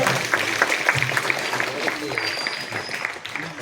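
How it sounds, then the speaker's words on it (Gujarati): A village crowd at an Independence Day celebration applauds with scattered, moderately loud clapping that runs through the clip while a voice talks over it. "ભીખુભાઈ આપણે તાળીઓથી વધાવીએ"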